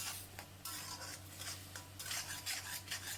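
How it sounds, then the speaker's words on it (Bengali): Spice masala for soyabean kofta being stirred and fried in a pan over a medium flame, with steady scraping and clinking of a utensil against the pan over a soft sizzle, close and continuous. "গ্যাসের ফ্লেমটা মিডিয়াম করে সমস্ত মশলাগুলোকে ভালো করে কষিয়ে নেব"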